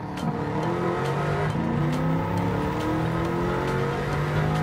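A 2016 Bugatti Chiron race car in a racing video game drives on the Le Mans circuit, its engine droning steadily and loud with rising whir and shifting tones throughout, without talk.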